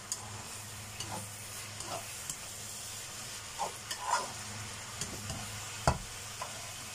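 Yam noodles stir-fry in a pan with a steady soft sizzle, punctuated by scattered scrapes and taps of stirring, close and moderately quiet.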